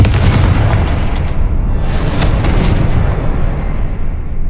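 A Confringo blasting spell explodes in Hogwarts Legacy, a loud, dense, rumbling boom that fills the whole stretch, with a crackling burst flaring partway through.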